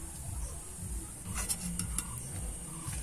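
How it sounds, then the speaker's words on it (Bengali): Nimki pastries fry in hot oil with a soft, steady sizzle, faint and continuous, broken by a few light clinks of a utensil against the pan. "দেখেছো কত সুন্দর নিমকিগুলো কিন্তু ভাজা হয়ে যাচ্ছে।"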